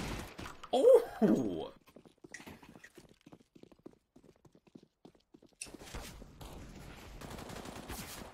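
Video game gunfire crackles in a quick, close burst of rapid shots near the start, followed by scattered faint clicks and a voice exclaiming, then muffled game noise and speech.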